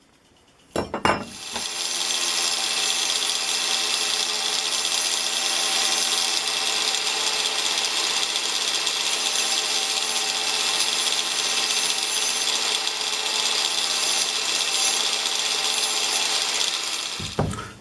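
A belt grinder shaping an elk antler knife handle makes a steady, continuous abrasive grinding whir for about fifteen seconds, starting and stopping abruptly, loud and close with no talking.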